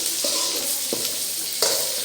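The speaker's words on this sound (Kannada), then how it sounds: "ಇದನ್ನು ಫ್ರೈ ಮಾಡುವ." Capsicum frying in a pan for chicken chilli crackles steadily up close, with three distinct stirring scrapes and clinks spaced through the short stretch and no speech.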